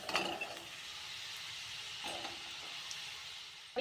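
Tomato chakli frying in hot, bubbling oil gives a faint, steady sizzle with scattered small crackles and clicks, close but quiet.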